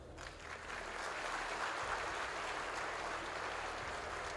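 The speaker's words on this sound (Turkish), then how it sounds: "size bu salondan büyük bir alkış" An audience in an awards-ceremony hall claps steadily, a dense, even wash of applause that swells in and holds for several seconds at a moderate distance.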